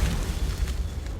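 Confringo explosion spell in Hogwarts Legacy, a loud booming blast with a deep rumbling low end that swells and rolls for about a second.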